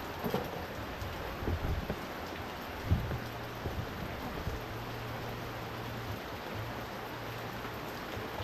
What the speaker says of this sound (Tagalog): Nahiningan po ng ulan ah.